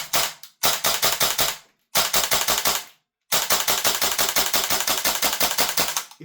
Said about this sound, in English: there's just a very distinctive noise about this WellPro AK12